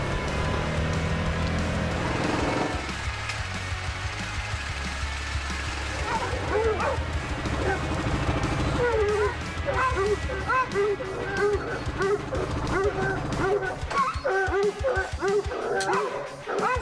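Hunting dogs bark and yip in steady, overlapping bursts during a muzzleloader bear hunt in West Virginia, loud and close, with whines mixed in and music playing underneath throughout.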